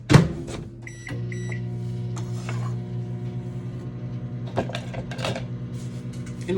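A kitchen microwave oven runs while melting butter for a blueberry popover recipe, giving a steady low hum with a few sharp clicks and mechanical rattles near the start and a couple of louder knocks later.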